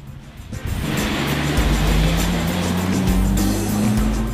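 Opel Cascada convertible cruising on the road, with a steady low engine and road hum that swells after a quiet start and holds level, no talk over it.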